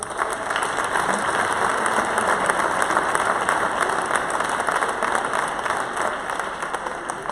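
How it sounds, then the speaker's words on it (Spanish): Sustained audience applause for a young rider at an equestrian gala, a loud, dense wash of many hands clapping continuously at an even level from start to finish. "Un aplauso para él."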